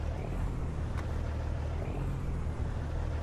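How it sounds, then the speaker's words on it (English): A modified Peterbilt 389 truck in American Truck Simulator, pulling a 40-ton trailer, gives a steady, deep engine drone that runs loud and unbroken throughout, with no talk over it. "It's a very deep sounding engine,"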